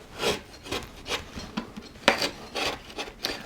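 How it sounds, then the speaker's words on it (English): A flat gouge smooths the background of a coastal wood relief carving, removing points left by a Forstner bit. About eight short, dry scraping strokes come in an uneven rhythm, close and moderately loud, with no talk. "So I'm coming in from the side with a flat gouge and just smoothing this back now"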